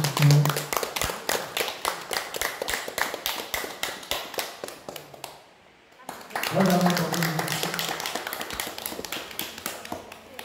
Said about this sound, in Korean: 큰 박수를 주십시오.